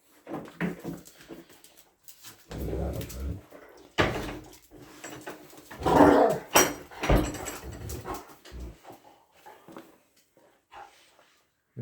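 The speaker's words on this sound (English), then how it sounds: "hello little doggy." A small dog in a house near a boot room, heard as short whimpers and yelps mixed with door and cupboard knocks, fairly close and moderately loud, with bursts of activity and brief gaps.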